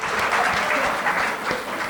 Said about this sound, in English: Please clap hands for me.